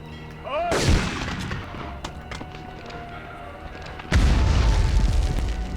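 Grenade explosions in the war game Medal of Honor: a heavy, close boom early on, a quieter stretch with scattered gunfire, then a second loud, sustained blast rumbling to the end.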